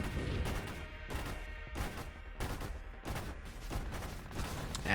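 Ship weapons firing with muzzle flash in the space shooter Nova Drift, a continuous barrage of punchy blasts repeating roughly every half second, dense and steady without talk.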